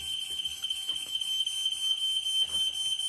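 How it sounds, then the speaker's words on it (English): A high, steady electronic tone of an alarm sounds continuously at moderate volume, with faint low knocks and shuffles underneath. "I've got a fire alarm here."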